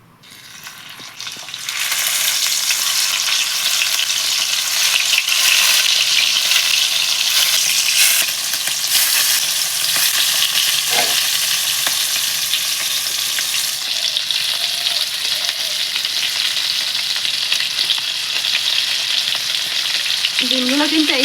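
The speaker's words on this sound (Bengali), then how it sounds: "এবার কেটে রাখা ডিমের পিসগুলো ভেজে নেব।" Cut egg pieces fry in hot oil in a pan, giving a loud, continuous, close sizzle that swells in after a quiet start and holds steady for about twenty seconds, with no voices.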